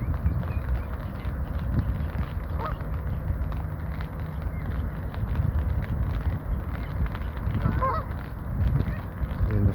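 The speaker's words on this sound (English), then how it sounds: "Right, here are these swans. Look, they're coming over. They're hungry." Swans at a recreation ground give repeated nasal honking calls, fairly close and moderately loud over steady outdoor wind noise, with a few scattered calls rather than a continuous chorus.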